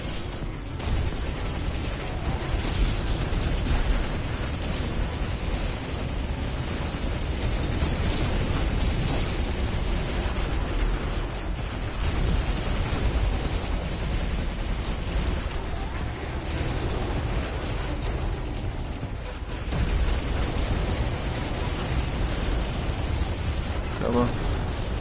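Sustained, dense machine gun fire fills The Heist, a PSVR shooting game, a continuous loud barrage with bursts of noise throughout and a player's voice mixed in.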